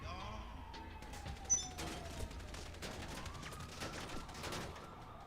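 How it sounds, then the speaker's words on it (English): Video game gunfire in a shooting scene set at an apartment building: sustained crackling bursts of shots, distant and mid-range, with a couple of louder single reports over a dense, continuous background of game noise. No one speaks. "Trying to shoot me at my own fucking apartment building."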